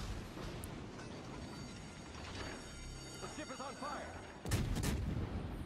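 Warship guns fire shells in World of Warships: Legends, heard as a faint rumbling battle bed under a commentator's voice, with a louder deep burst of gunfire near the end.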